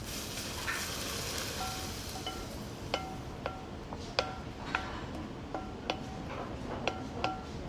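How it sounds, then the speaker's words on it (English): Hot oil poured over a scallion mixture, a steady broad sizzle with scattered sharp pops and crackles, close and continuous, with no talking. "We're gonna pour it over our scallion mixture. It's gonna sizzle."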